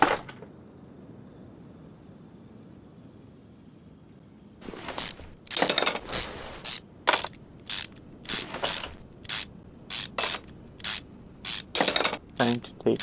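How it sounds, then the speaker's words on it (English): Screws being removed in the game Car Mechanic Simulator 2021 during a car upgrade: after a quiet stretch, a run of sharp ratcheting bursts repeats in quick, regular succession, loud and close, with no talk over them. "Trying to take out all the screws"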